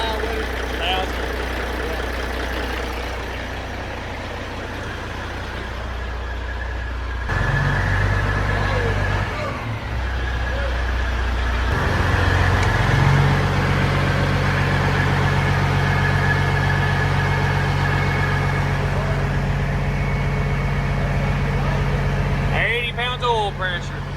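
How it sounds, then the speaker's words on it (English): The Copper Peterbilt truck's engine runs steadily at a loud, close idle, its note rising slightly when revved a little, with people talking over the rumble. "Motor sounds pretty good now."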